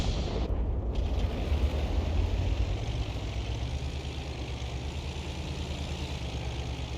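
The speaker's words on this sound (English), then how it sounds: "Two Arty rounds went in simultaneously" Two artillery rounds landing at once in World of Tanks, a heavy rolling explosive rumble that fades into a sustained low drone of distant battlefield noise, with no voices.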